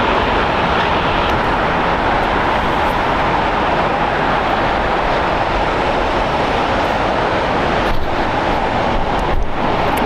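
A Boeing 747 heavy jet at LAX gives off a loud, continuous low engine rumble and broadband roar, steady and close, with no voices over it.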